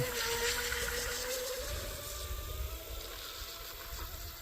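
A small RC shrimp outrigger boat with a carbon transom runs its motor at about half throttle on a 3s battery, giving a steady, distant whine and hum over water across the whole stretch with no voices.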